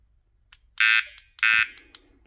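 A Mivardi MCA Wireless fishing bite alarm, set to its loudest volume, gives two sharp high-pitched electronic beeps close up, each about a quarter second long. Faint clicks come before and after the beeps, and no one speaks.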